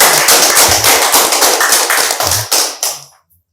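A small group clapping hands in brisk, uneven bursts, close and loud for about three seconds, then stopping abruptly.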